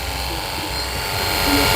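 A cordless pressure washer powered by DeWalt 20V batteries whirs steadily with a high, buzzing drone that grows slightly louder over a couple of seconds as it primes.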